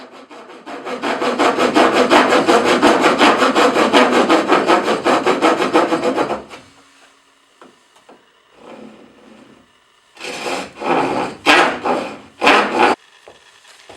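Hand saw cutting dovetail tails in a wooden cabinet board, a loud close run of rapid rhythmic strokes for several seconds, then after a pause a few separate sawing bursts.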